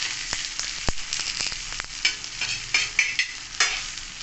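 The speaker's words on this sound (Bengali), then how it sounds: "তেল দিয়ে এটাকে ভালো মতন করে আমি ভেজে দেবো" Pieces of a flour-and-egg snack dough fry in a little oil in a pan, giving a steady close sizzle broken by sharp clicks and pops as the pieces are turned and moved.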